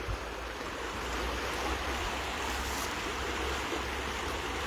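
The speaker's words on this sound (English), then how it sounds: "I hope the noise of this lovely water flowing is raising your spirits." A stream of water flows steadily past on an outdoor park walk, a continuous, full, close rushing wash with no break across the clip.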